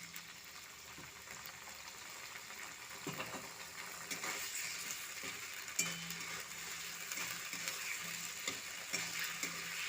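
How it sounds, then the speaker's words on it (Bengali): Tomato halves frying in a pan, a soft continuous sizzle with occasional clicks and knocks of stirring, fairly quiet and close. "টমেটো অল্প নরম হয়ে যাওয়া পর্যন্ত ভেজে নেব।"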